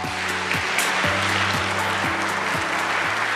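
Sustained applause from a crowd at a government policy briefing, a dense even clatter of clapping over background music with a steady repeating beat.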